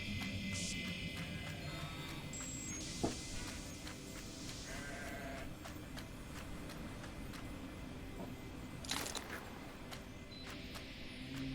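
Sheep bleat in a video game, occasional short cries over a steady bed of insect-like ambience and soft background sounds, no talking.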